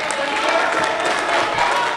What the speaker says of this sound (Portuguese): Jair Bolsonaro saiu aplaudido pelos aliados